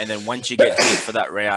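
A single sharp sneeze bursts out in the middle of conversation at a tabletop role-playing game session, with people talking before and after it.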